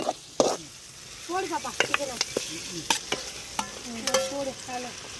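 Raw chicken tipped into a pan of sautéing tomatoes over a village cooking fire, then stirred with repeated scraping, clattering strokes over a soft steady sizzle, close and moderately loud.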